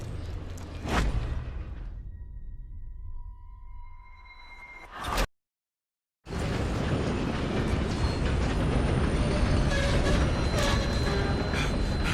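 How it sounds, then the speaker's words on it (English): A train in the video game Red Dead Redemption II rumbles along in a dense, loud roar, broken by sharp hits, a tonal hum that fades, and a short dropout of silence before the noise resumes. "We have to stop this train."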